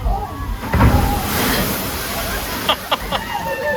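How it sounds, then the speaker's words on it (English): At the Kentucky Kingdom amusement park in Louisville, water from a ride coming down a hill crashes over a splash guard in a loud, broad rush, followed by a churning hiss with brief sharper splashes and voices nearby. "as the water ride comes down the hill, the water goes right over the splash guard"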